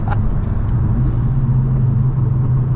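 A tuned VW Mk8 GTI engine rumbles steadily through its exhaust on a downshift, with a couple of faint sharp pops near the start over continuous road drone.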